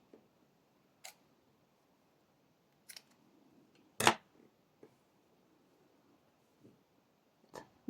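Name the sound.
scissors cutting crochet yarn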